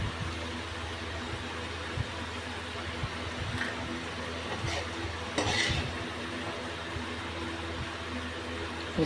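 Potato pieces frying in oil are stirred and lifted from the pan, a soft steady sizzle under repeated scraping and clinking of a utensil against metal, close up with no voices.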